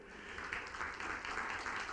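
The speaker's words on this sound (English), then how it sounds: "please give a big round of applause for Tejas Dinkar" Audience at a Clojure programming conference applauds to welcome a speaker, a steady wash of many hands clapping at moderate, slightly distant level throughout.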